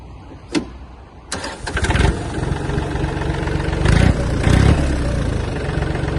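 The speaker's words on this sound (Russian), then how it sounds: "Трактор работает мягко, приемисто." A Yanmar AF-22 Japanese mini tractor's engine cranks over after a short click, catches and settles into a steady diesel idle, with two louder rev bursts before returning to a smooth run.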